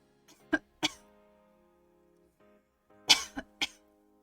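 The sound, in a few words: deliberate cough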